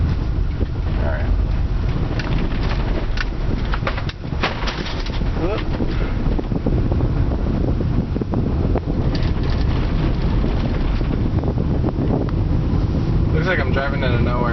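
A car drives along a loud dirt road at a rural home, its steady rumble of tires and engine mixed with heavy wind buffeting against the microphone, and speech faint underneath.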